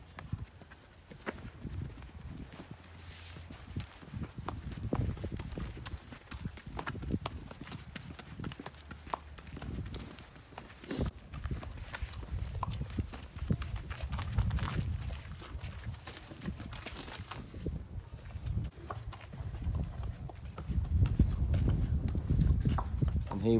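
A stallion's hooves clip-clop steadily on a hard floor as he is led into a barn housing other horses, close and fairly loud with some shuffling and background noise.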